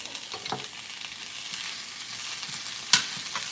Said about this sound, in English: I want them to make really good contact with the pan so they can get a nice sear.